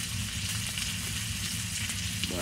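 Butter sizzling in a hot pan over a campfire at a winter camp, a steady crackling hiss that fills the whole stretch without any voices.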